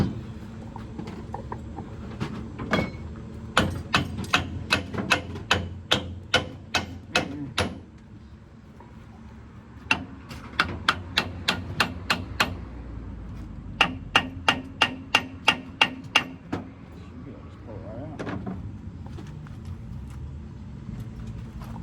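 Sharp metallic hammer taps on a car brake booster during a rebuild, struck in quick bursts of about a dozen evenly spaced blows, pausing, then resuming, close and distinct over a low workshop hum.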